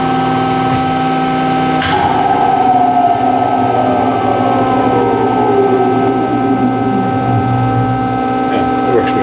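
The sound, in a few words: Speedfam thru-feed grinder spindle stopping under dynamic brake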